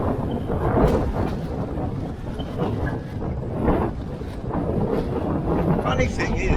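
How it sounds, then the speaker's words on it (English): Strong wind gusts over a bay, a steady loud roar of rushing air buffeting the microphone, swelling and easing without pause. "It's become quite windy now."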